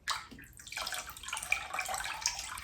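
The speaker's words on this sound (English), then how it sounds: "I just need to undo this clasp and then the rest of the juice will come out." Aronia juice pouring out of a container once a clasp is undone, a continuous splashing trickle of liquid that runs steadily and fairly close for a few seconds.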